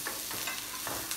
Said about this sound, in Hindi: देखिए आलू भून रहे हैं हमारे